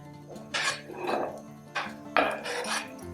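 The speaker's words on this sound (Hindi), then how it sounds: "स्टर फ्राई करना है हमने वेजिटेबल्स को। कॉर्न्स जाएंगे इसमें, शिमला मिर्च और गाजर।" Corn, capsicum and carrot stir-fried in oil in a pan, with a few bursts of scraping and tossing against the metal between quieter stretches, close and alone.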